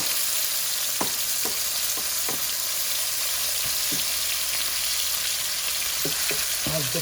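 Salmon sizzles steadily in a pan with a penne sauce, with a constant frying hiss and occasional clinks and stirring sounds on top.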